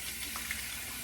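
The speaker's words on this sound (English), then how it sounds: "liven my face up again with a little near hot water" Near-hot tap water runs steadily into a bathroom sink while a man readies his face for a safety-razor shave, a continuous close hiss with no talking.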